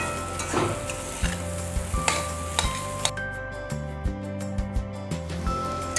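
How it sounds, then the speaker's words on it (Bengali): Radish and turmeric fry in a pan with a constant sizzle while a spatula stirs, its scraping knocks landing in an uneven rhythm close by. "হলুদ দেওয়ার পরে আরো 2 মিনিট এইভাবে নাড়তে হবে আর ভাজা করতে হবে।"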